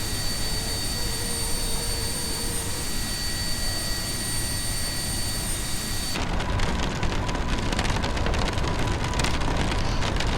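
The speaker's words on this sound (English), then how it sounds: "it sounds like it's raining pretty hard" Heavy rain drums on the cockpit of an Aerobask Epic Victory private jet in the X-Plane 10 flight simulator, a steady loud broadband wash over the low hum of the jet engine, growing denser and brighter partway through.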